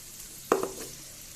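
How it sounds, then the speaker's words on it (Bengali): Rice and vegetables sizzle in ghee and butter in a kadai, a short burst of frying and stirring that peaks briefly and then settles into a faint hiss, with no voices. "এবার এই ভাজার মধ্যে আমি ভাতগুলো দিয়ে একসঙ্গে মিশিয়ে"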